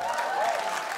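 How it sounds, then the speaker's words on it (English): Audience applause at a stand-up comedy show, a dense burst of many hands clapping filling the whole brief moment. "Stop, don't clap."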